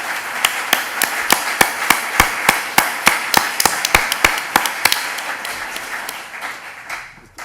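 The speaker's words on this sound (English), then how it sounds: "we should have another round of applause for the organizers" Conference audience claps for the organizers of a Scratch gathering in Barcelona, a full round of applause with sharp distinct claps standing out, sustained for several seconds before tapering off and fading at the close.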